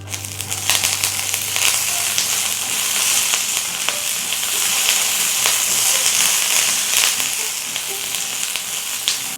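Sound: peanuts and curry leaves frying in oil

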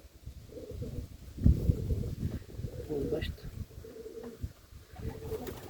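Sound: pigeons cooing at a dovecote

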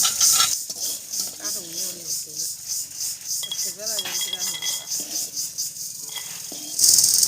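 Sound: fried lentil dumplings (bori) being lifted out of the pan

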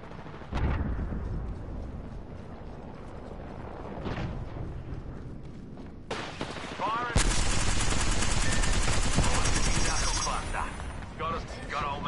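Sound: gunfire in the video game Apex Legends

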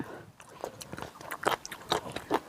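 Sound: crunchy fresh squid being bitten and chewed

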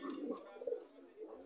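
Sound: racer pigeon cooing

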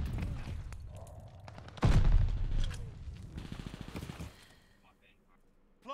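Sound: gunfire in a video game

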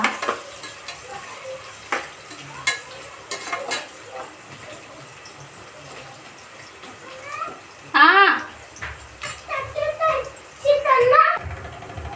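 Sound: frying in a pan to remove raw smell

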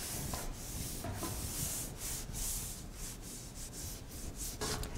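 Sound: wet sanding edges

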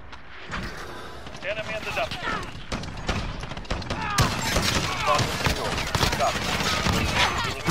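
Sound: gunfire from a video game

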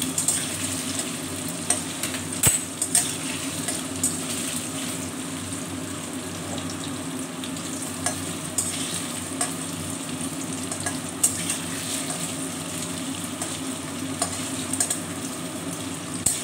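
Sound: paneer frying in hot oil in a wok

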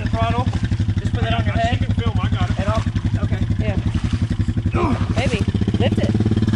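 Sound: motorcycle engine revving with throttle

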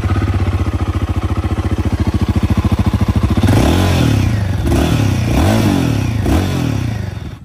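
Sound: Royal Enfield Guerrilla 450 motorcycle engine running

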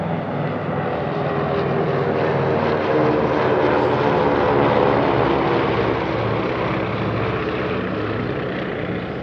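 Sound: DC-3 and Beech 18 propeller aircraft flying an airshow display

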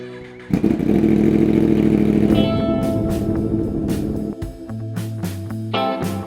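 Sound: motorcycle riding and accelerating

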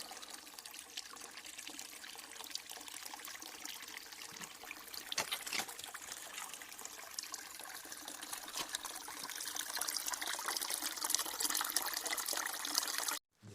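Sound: clear spring water babbling

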